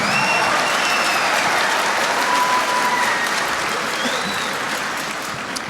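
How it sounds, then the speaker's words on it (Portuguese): Sustained applause from an audience at a motivational talk, dense steady clapping that carries on for several seconds and tapers slightly at the end, with a few faint voices mixed in. "Give him a round of applause. He deserves it."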